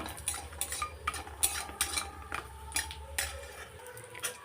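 Dried lentil dumplings (dal bori) stirred and fried in a pan, with repeated scraping and clinking of a utensil against the metal in an irregular rhythm over a low frying hiss, close and fairly quiet.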